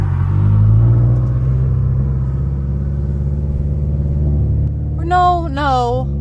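A supercharged BMW E92 M3 launches and pulls away, a loud close low engine drone that holds steady while the revs climb, then eases. A voice cuts in near the end.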